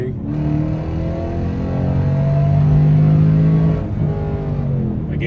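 A car's engine, held in its lowest gear on a test drive, is revved at full throttle. The close, steady droning note climbs in pitch, holds, then eases off.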